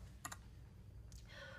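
Typing on a computer keyboard while entering command-line text: a quick double click of keys near the start and a short burst of key taps about a second later, fairly faint against a low background hum.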